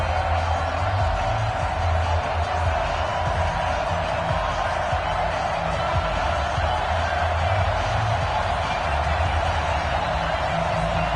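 A stadium crowd roars and cheers steadily throughout a Madden NFL video game matchup between the Indianapolis Colts and the home team, a dense continuous wash of noise with no breaks.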